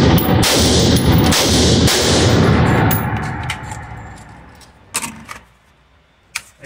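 A loud gunshot from a gun with an 11.5-inch barrel in good condition is fired on a 10 to 20 metre shooting range. The heavy blast rings out and fades slowly over several seconds, and a few sharp mechanical clicks follow.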